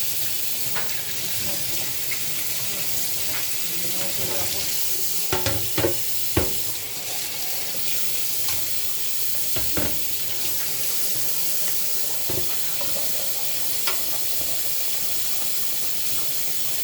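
Water runs from a tap in a steady splashing stream with occasional clinks and knocks, while a person speaks briefly over it.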